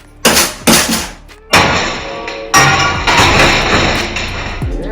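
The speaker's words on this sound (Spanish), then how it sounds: "Y nos ayudamos de nuestra amiga la maza." A mallet strikes a rusted, stuck bolt on a go-kart bumper with four loud metallic blows, each ringing and decaying before the next; the strikes are close and sharp, with no talking.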